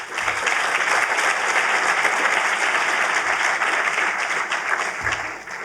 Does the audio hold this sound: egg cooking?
no